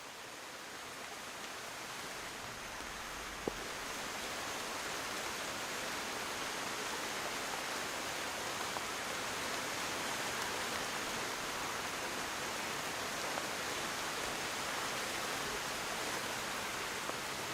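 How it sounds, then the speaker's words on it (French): Heavy tropical rain pours steadily through a Costa Rican forest, a dense, even hiss of drops on foliage that holds at the same level throughout, with one brief click near the start. "indifférent à la pluie qui redouble d'intensité"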